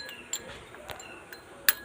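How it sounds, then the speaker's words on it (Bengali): Light clinks of a utensil against a cooking pan while vegetables are stirred, a few short separate taps, faint and close, with no talk. "আর নেড়ে নেব।"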